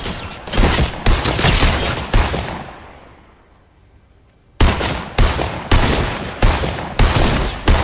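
Rapid bursts of automatic gunfire ring out in the video game Fortnite: loud, dense volleys at the start, a fading gap in the middle, then more sharp repeated shots close up.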